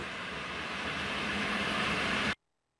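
A BR110 electric locomotive in Train Sim World, on the Bremen–Oldenburg line, rumbles along steadily with a broad, loud roar, then the sound cuts off abruptly.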